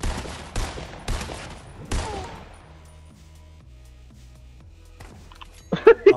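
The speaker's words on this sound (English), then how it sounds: "Nathan's still shooting at me from below." Several loud gunshots in Fortnite Battle Royale, fired from below, at the start, then quiet with faint game sounds and a few sharp bursts near the end.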